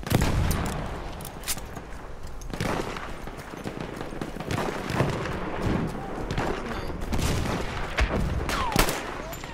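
Battlefield 1 battle sounds in Rush mode, with scattered gunshots and heavy explosive blasts at varied distances, including a thrown bomb going off, against a constant battlefield rumble.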